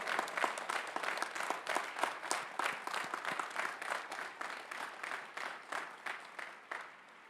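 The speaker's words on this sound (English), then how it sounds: "Please give them a round of applause." A commencement audience at Northeastern University applauds golden graduates, with dense, sustained clapping from a large crowd that stays even for about seven seconds before tapering off.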